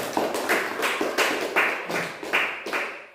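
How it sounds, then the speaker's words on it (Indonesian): A student claps her hands in a school classroom, about eight sharp, evenly spaced claps ringing out close and alone. "coba ya, Jihan, tepuk tangan"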